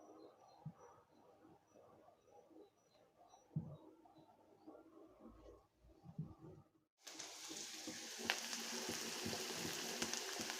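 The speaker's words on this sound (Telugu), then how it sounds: "జీలకర్ర, ఆవాలు, కొత్తిమీర అండి, కరివేపాకు వేసి పోపు చేస్తున్నాను" Cumin, mustard seeds, coriander and curry leaves tempered in hot oil: quiet kitchen clatter, then a sudden loud, steady sizzle and crackle bursting in partway through and continuing to the end.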